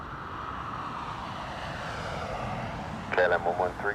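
Airliner touching down at Dublin Airport in a gusty crosswind, a broad steady engine roar and rushing air throughout, with a radio voice speaking near the end.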